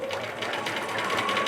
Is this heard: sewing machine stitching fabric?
yes